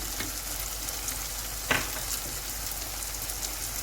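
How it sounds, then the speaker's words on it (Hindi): Red chilli, turmeric, ginger, fenugreek and salt fry together in a pan for bhindi masala, a steady moderate sizzle with light crackle and one sharp utensil clink partway through, and no talking. "अभी हम इन सारी चीज़ों को भून लेते हैं।"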